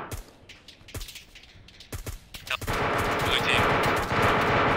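Arma 3 gunfire during a large multiplayer battle: separate sharp shots ring out, then a dense, loud stretch of rapid automatic fire rattles on, with a faint voice underneath.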